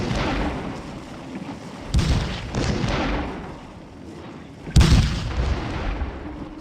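Civil War artillery fires in the Gettysburg battle game Scourge of War: Gettysburg: two sharp, heavy booms stand out against a continuous rumble of distant cannon and gunfire.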